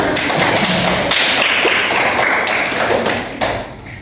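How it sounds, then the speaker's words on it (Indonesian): Classroom applause from a group of students: loud, close, dense clapping with sharp taps and thuds that carries on steadily, then thins out near the end. "Jadi berikan tepuk tangan dulu untuk kita semua."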